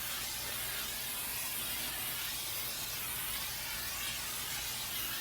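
A steady, continuous spray hisses up close as a grill grate is sprayed down, an even rush of mist with no pauses from start to finish.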